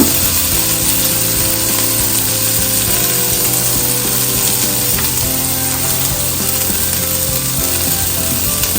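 A pepper grinder cranks black pepper over Jamaican coconut chicken, a loud, continuous ratcheting grind with a fast rough rhythm, close up and unbroken for several seconds, with no voice over it.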